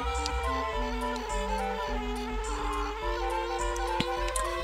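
A bee buzzing in the Banjo-Kazooie video game, a continuous droning hum that shifts in pitch against game music, with no talking.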